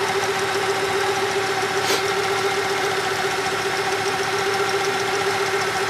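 A car engine idles steadily, a close and constant low hum with a faint rhythmic knock, with no other sound standing out.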